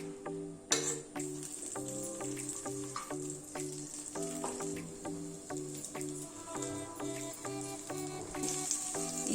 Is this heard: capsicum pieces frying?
yes